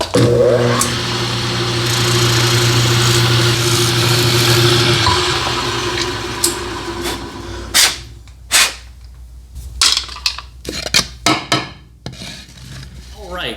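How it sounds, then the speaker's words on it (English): A drill press runs with a steady mechanical whir and grinding rasp for several seconds while cleaning restored parts, then stops, followed by a series of sharp clicks and clanks. "So I'll head over to the drill press and clean these up."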